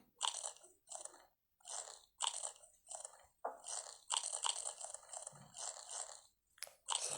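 Crunchy chewing and biting of food in the My Play Home Plus game, heard close up as about a dozen short, rhythmic munching bursts separated by brief pauses, with no talking.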